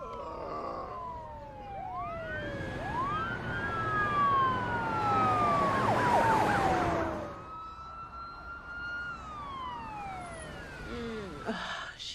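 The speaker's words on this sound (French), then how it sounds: "Miss Johnson, appelez une ambulance" An ambulance siren wails in repeated rising and falling sweeps, loud and steady for most of the stretch before easing slightly toward the end, with no talking over it.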